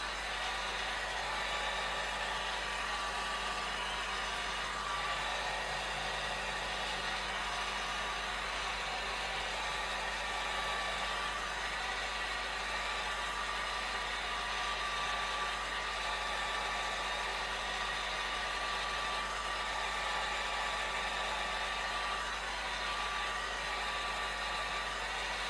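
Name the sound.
hair dryer blowing alcohol ink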